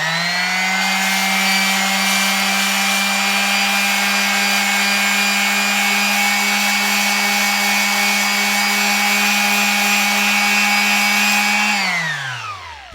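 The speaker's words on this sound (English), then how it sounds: "once you get happy with the shape and the contour, then I bust out the sandpaper," A power sander with coarse sandpaper on wood for a cigar box guitar drones steadily at one loud, constant pitch with a rough grinding edge, then winds down as the motor stops.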